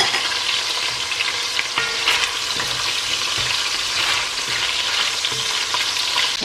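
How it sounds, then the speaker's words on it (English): Pieces of turkey frying in a pot for jollof rice, giving a loud, continuous close-up sizzle with occasional stirring scrapes. "as you can see, I have fried my turkey a bit"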